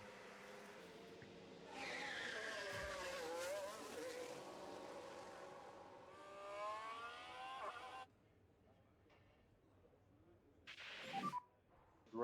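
A race car in the F1 Manager simulation game, its engine rising and falling in pitch over several seconds with tire squeal, then dropping away to quiet before a brief loud whoosh near the end.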